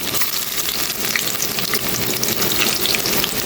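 Hot oil sizzles and crackles steadily in a pan at the start of cooking a prawn curry, a loud, dense frying hiss that runs without pause.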